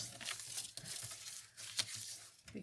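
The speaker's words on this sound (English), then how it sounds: "You have to cut a bit off it" Paper being cut and trimmed for a handmade mouse Christmas card, with short tearing and crinkling bursts, a sharp snip near the middle, all close and fairly quiet.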